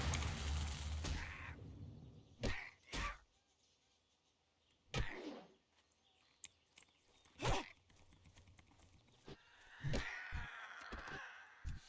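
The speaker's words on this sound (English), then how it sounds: "See, that's a bird." A bird creature in World of Warcraft Classic gives several sharp, harsh caws spaced a few seconds apart over quiet game ambience.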